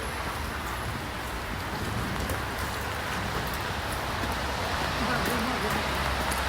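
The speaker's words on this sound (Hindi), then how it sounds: "बहुत तेज़ बारिश हो रही है" Heavy rain pours down steadily in a dense, continuous hiss, with a voice faintly audible under the downpour.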